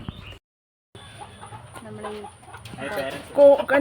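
Chickens cluck and rooster-like calls come and go in a farmyard setting tied to cockfighting, with voices talking under the bird sounds and a brief silent gap near the start.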